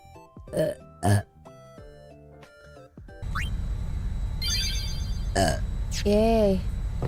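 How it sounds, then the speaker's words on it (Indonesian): Two short, loud burps stand out over background music, then noisier game-like sounds and a voice follow. "Sendawa."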